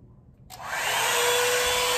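A hair dryer switches on at its high heat setting after a brief quiet moment, rising quickly into a loud, steady airy roar that holds without a break.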